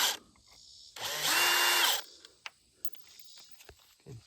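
A power drill backs screws out of a Lowrance Ghost trolling motor: a short whine, a longer loud run, then small clicks and taps of handling nearby.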